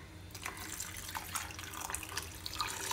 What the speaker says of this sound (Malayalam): കുറച്ചും കൂടെ വെള്ളം ഒഴിച്ചു കൊടുക്കുകയാണ്.